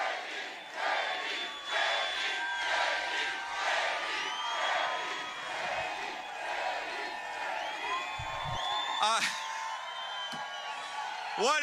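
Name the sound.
rally crowd cheering for JD Vance in Butler, Pennsylvania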